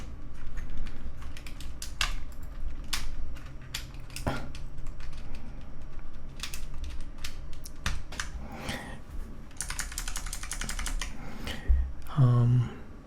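Fingers type on an experimental optical mechanical keyboard, giving a close, crisp run of uneven clicks and clacks with occasional louder key strikes. Soft whispering runs faintly underneath.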